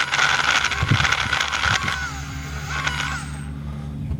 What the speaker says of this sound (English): It seems that the controller's not driving it right, because it seems to be jittering a lot